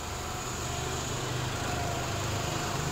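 A 2008 Japanese seven-seater car's engine idles under the open hood with a smooth, even hum and faint mechanical whir, heard alone at a constant level.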